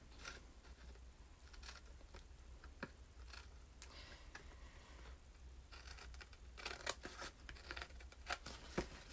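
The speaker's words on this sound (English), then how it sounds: "take your fun paper snips and just cut around the edges" Fun paper snips cutting around the edges of a paper envelope, a run of soft, close crisp snips and faint tearing rustles over a quiet room hum, with no talking.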